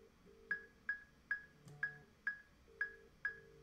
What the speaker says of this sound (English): Let's find out what Ron's ringtone is.